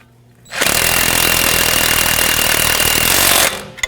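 A 15mm socket on an impact-style power tool tightens a sway bar link nut on a 2011-2018 Volvo S60 in a steady, loud, close burst of buzzing hammering lasting about three seconds, alone.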